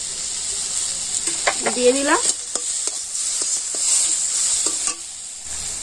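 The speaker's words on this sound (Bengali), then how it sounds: "এবার আমি দিয়ে দিচ্ছি টমেটো, টমেটোটি আমি একটু হালকা নাড়াচাড়া করে নেব।" Tomatoes and ginger fry and sizzle in a pan while being stirred, with a steady hiss throughout, scraping stir strokes, and a brief voice speaking over the cooking near the start.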